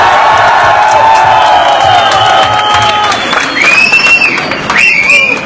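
Large crowd at the Vestige Carnival network-marketing event applauding and cheering loudly, with whoops and high-pitched shouts rising over sustained clapping and a few voices calling out near the end.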